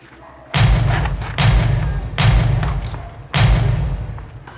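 Gunshots fired during a staged prison break scene on a film set: four loud, heavy booming shots spaced roughly a second apart, each with a sharp attack and a rumbling decay, and no voices between them.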